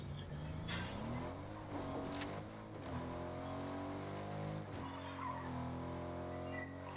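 A car in Fortnite drives with a steady engine note while tires skid and squeal in a few sliding bursts, close and continuous for several seconds.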